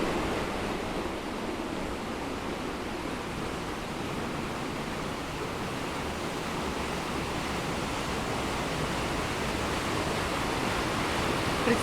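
Continuous roaring rush of water from the Banias waterfall, a steady broadband hiss heard at some distance, unbroken throughout with no voices.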